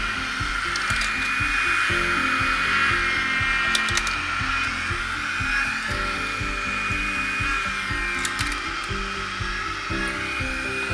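A Parrot Anafi 4K drone runs its motors and gimbal, giving a loud, steady multi-tone whine with a bright high hum held unbroken throughout, close to the listener and not covered by talk.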